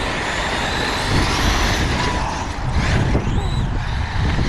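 A Traxxas X-Maxx RC truck bounces over bumpy ground, its motor whining close by amid rattling, clattering jolts and scrapes, loud and uneven throughout.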